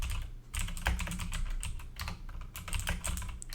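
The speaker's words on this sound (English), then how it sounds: "it's hard for me to type" Rapid typing on a computer keyboard with the microphone placed between typist and keys, a close, continuous clatter of keystrokes with brief pauses.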